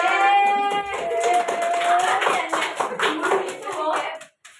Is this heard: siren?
no